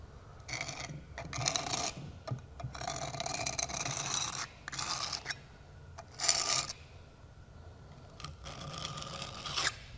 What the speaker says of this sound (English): just take a regular putty knife, patch trowel, something flat, and all you're wanting to do is just rake off that excess